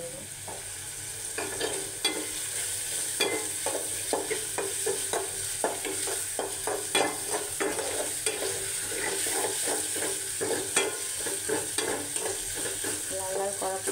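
Chopped onion browning in hot oil for a Bengali pabda fish curry with bottle gourd, a steady close sizzle broken by frequent rhythmic scrapes and taps of a spatula stirring the pan, with no talk.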